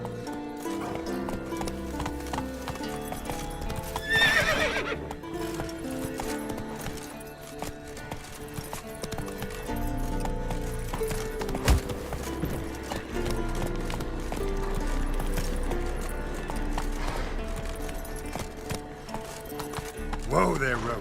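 A horse named Roach gallops in a video game, its hooves pounding in a fast, continuous rhythm beneath game music, with a voice speaking over the action.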